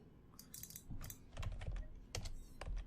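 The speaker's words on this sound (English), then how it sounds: "I can hear the doubt in your typing." Fingers clatter on a computer keyboard in quick irregular bursts of key clicks with short pauses between, close and fairly quiet against a hushed room, with no voices.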